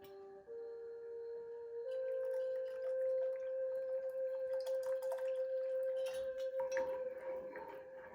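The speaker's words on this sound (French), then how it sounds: "Ici, on va ensuite rajouter de l'eau." Water poured into cacao paste for a cacao drink, a thin steady trickle with a rising pitch as the vessel fills, then some dripping and clinking near the end, quiet and close with no talking.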